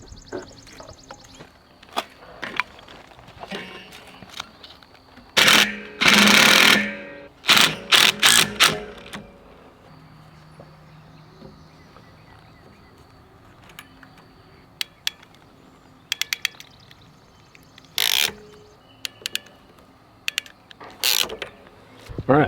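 A threaded fitting is screwed onto PEX water pipe in a greenhouse plumbing setup, with scattered clicks, ratcheting creaks and a few loud bursts of handling noise amid quieter stretches.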